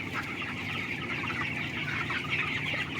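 Chickens in a closed, environmentally controlled poultry house cluck and chatter as a dense, continuous flock murmur, steady and moderately distant over the low hum of the building's ventilation.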